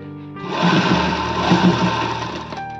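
A sewing machine runs in one steady, close whirring burst for a couple of seconds, stitching the edge of a princess-cut blouse, with no talking.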